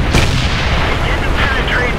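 Tank cannon firing in the World of Tanks video game, a dense booming blast with heavy low rumble filling the moment, loud and close.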